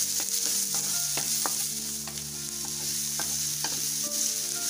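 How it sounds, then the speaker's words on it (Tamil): Onions sautéing with green chilli and curry leaves in a pan for a banana flower masala curry, a constant close sizzle broken by repeated scraping and stirring strokes, no talking. "வெங்காயம் பொன்னிறமாக ஆகிற வரைக்கும் கொஞ்சம் வதங்கட்டும்"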